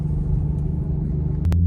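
An Infiniti Q50 holds third gear on a winding road, its engine a steady, close, low rumble with a brief rise in pitch near the end.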